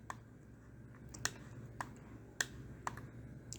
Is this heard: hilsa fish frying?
no